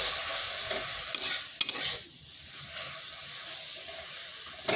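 Ginger and garlic paste cooking in a pan with a splash of water, stirred with a utensil: soft steady sizzle and hiss with a few brief scraping stir sounds, close and alone.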